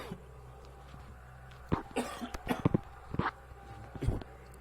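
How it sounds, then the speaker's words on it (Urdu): Several short, sharp coughs in a quick cluster, close and fairly loud over a quiet low hum, with a final cough after a pause. "سوری دوستو، کھانسی آ گئی"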